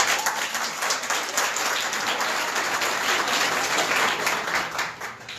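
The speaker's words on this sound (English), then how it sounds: "Give them a round of applause." An audience at an Eastside community awards evening for teachers and businesses breaks into sustained applause, a full, steady clatter of many hands that swells slightly and holds before easing off near the close.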